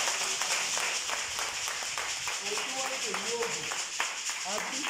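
A church congregation claps for Jesus, with scattered sharp hand claps running steadily under a voice and a constant background murmur.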